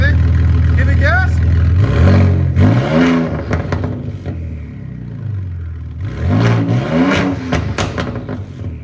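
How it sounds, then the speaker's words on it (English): Ford Raptor EcoBoost with upgraded turbos and a straight-pipe exhaust, no mufflers, revving loud and close in two rising bursts over a rough idle, with voices talking over it. "This is the first test on this EcoBoost. This is just straight pipe."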